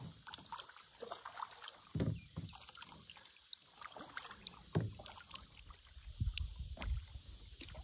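A canoe is paddled on the Suwannee River in the morning, with repeated paddle strokes splashing and dipping in uneven rhythm close by, over light wind and water trickle.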